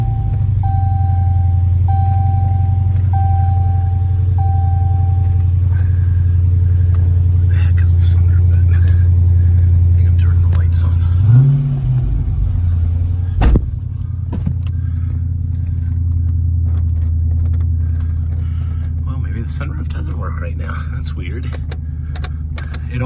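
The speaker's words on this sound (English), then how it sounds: "Let me start the car up real quick." A 2015 SRT 392 car engine cranks and starts partway through, then settles into a low, steady idle rumble, with a person talking over it.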